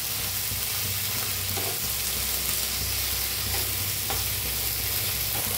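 Tomatoes, garlic, ginger and dried chillies sizzle and fry steadily in a pan, with a few soft stirring scrapes and a low hum from the stove running beneath.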